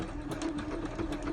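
Janome sewing machine running steadily, a close, continuous mechanical hum with a fast repetitive stitching rhythm and no pauses.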